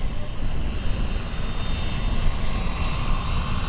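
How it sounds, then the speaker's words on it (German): A 1:3 scale Bell 47G radio-controlled helicopter with a 3.8-metre rotor flies in windy outdoor conditions. Its rotor gives a loud, steady, throbbing drone that continues without a break throughout. "Rotorfahrtgeräusch ist geil."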